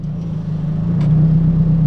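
Car fitted with a newly installed exhaust and test pipe, heard on a test drive as a steady low engine drone and rumble that grows slightly louder and fuller over two seconds, close and continuous with no talking.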